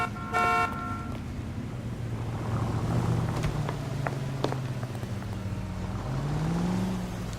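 A car drives in the video game LA Noire, its engine droning low and steady with a short horn-like toot near the start, faint clicks above and no talking.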